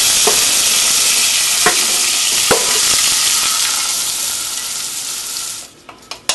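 Tomatoes frying in a pan over medium-high heat give a loud, continuous close sizzle with a few sharp scraping clicks of stirring, fading near the end into scattered utensil knocks.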